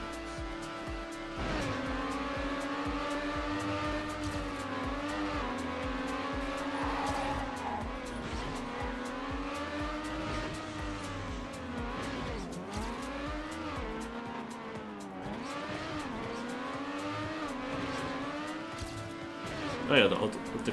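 A race car in a stadium track racing video game drives with a steady engine drone, pitch rising and dipping through gear changes and turns, and a voice speaks over it.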